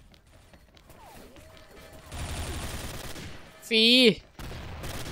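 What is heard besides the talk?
gunfire from Gold Dragon TAR gun in video game XSHOT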